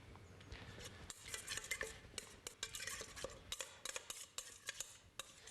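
Fish marinade paste being stirred with a small amount of lime juice, a spoon clinking and scraping against a bowl in quick irregular strokes, close and fairly loud with no talking.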